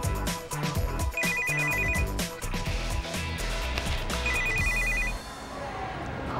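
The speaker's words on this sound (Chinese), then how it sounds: "这好像是我爸爸手机。" A mobile phone rings with a repeating electronic ringtone melody, two clear ring bursts standing out over a loud musical background.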